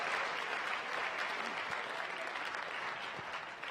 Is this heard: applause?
yes